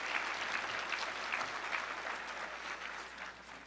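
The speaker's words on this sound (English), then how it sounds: "Can y'all give yourself a round of applause?" A lecture audience gives a round of applause, a steady wash of clapping that stays fairly even and slowly fades toward the end, with no talking over it.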